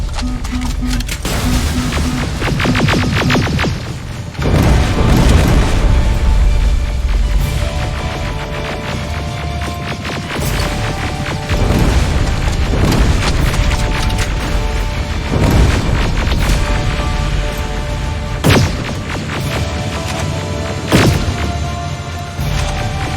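Rocket explosions in the Terminator Resistance video game, with loud booming blasts and crashes recurring over a dense, continuous battle din, heavy thuds landing every few seconds.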